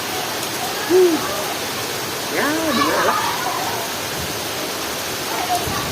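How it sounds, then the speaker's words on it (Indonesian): Heavy rain pours down in a steady, dense hiss that fills the whole scene, while a person speaks briefly over the downpour. "Nah di sini juga lagi hujan deras banget"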